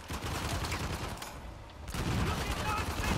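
Continuous shootout in Uncharted: The Lost Legacy, loud overlapping gunfire that dips briefly for a second before resuming at full intensity, with a player talking over it.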